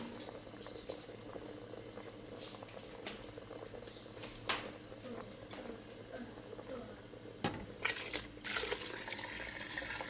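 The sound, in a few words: coconut milk being poured into a pot of cooking peas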